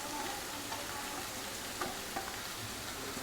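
Grated coconut being stirred into an okra stir-fry in a hot pan, giving a steady close sizzle with soft scraping and a few light clinks of the spoon, no voices.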